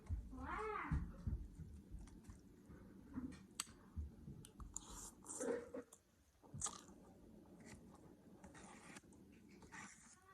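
A pet chews a piece of lo mein noodles, giving soft, irregular clicking and crunchy bites spread over the stretch, fairly faint and close, with occasional murmured voices in the background.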